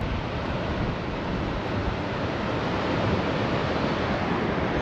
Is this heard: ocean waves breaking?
yes